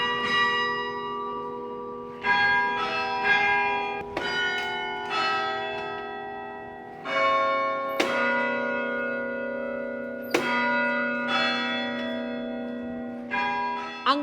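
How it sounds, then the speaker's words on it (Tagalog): Carillon church bells at St. Clement's in Iloilo, played by hand from a large wooden keyboard, ring out in a melodic sequence of overlapping struck tones, each note ringing and decaying at an uneven pace. "Ang gamit niya para mapatunog ang mga kampana, ang keyboard na ito na gawa sa malaking kahoy."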